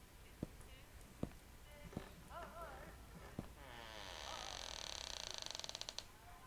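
A door creaks as it is slowly closed in a game, giving a long, drawn-out groan with several sharp knocks and a fast rattling run of clicks. Faint talking can be heard underneath.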